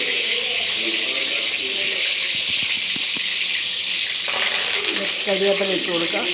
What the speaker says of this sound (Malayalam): ചീഞ്ചട്ടി അടുത്ത് വെച്ച് അതിനകത്ത് കുറച്ച് എണ്ണ ഒഴിച്ച് ചൂടായി കഴിയുന്നുണ്ടെങ്കിൽ നമ്മൾ കരിയാപ്പില ഇട്ട് കൊടുക്കുക